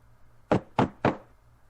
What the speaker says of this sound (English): King, make that knocking sound